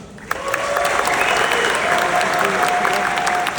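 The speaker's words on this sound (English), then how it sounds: "Round of applause for Brother Khabib." Loud, sustained applause from a crowd at a live event honoring Khabib Nurmagomedov, dense clapping filling the hall with a few whistles and cheers riding on top, steady throughout.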